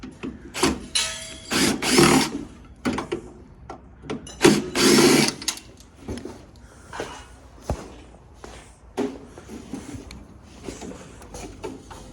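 Two loud whirring bursts from a power drill among shuffling, clunks and handling noises while working on heavy copper radiators, close up, with quieter knocks and scrapes between.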